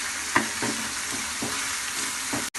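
Whole spices, black peppercorns, cloves, cumin seeds and a cinnamon piece, frying in a pan, a steady close sizzle with occasional stirring scrapes and no talk.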